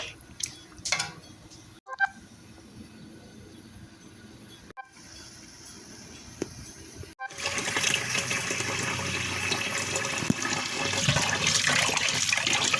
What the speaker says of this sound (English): I'm using the same meat pot and just washing out my vegetables